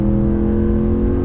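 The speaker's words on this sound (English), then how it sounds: "we're out in the Ram Rebel, and you can hear that V8 sound" Ram Rebel pickup's V8 engine rumbles steadily at a constant rev with its aftermarket exhaust, loud, close and continuous, with no talking.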